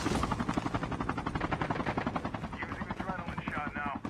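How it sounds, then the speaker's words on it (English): Helicopter flying in during a video game shooter match, its steady rotor chop pulsing loudly throughout under continuous gameplay noise and a talking voice. "Oh, there's a chopper here coming in."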